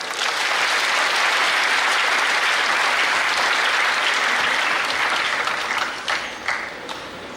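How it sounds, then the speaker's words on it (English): Large crowd of students applauding steadily at a university orientation program as a club takes the stage, a loud, dense wall of clapping that thins slightly near the end. "So with a big round of applause, let's welcome them to the stage,"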